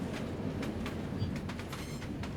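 A train rolling along the tracks in Deep Sleep: Labyrinth of the Forsaken, a steady low rumble with regular clicking wheel beats and faint squeals, heard from inside the carriage.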